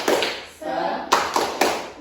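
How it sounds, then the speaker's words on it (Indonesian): A classroom of students performs a rhythmic group clapping chant, a few sharp unison claps in a short pattern with voices calling along between them, close and fairly loud. "kita tepuk semangat dulu"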